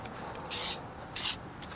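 Two short hisses of lubricant spray hit the U-bolts of a trailer's suspension, quiet and close, separated by a brief pause.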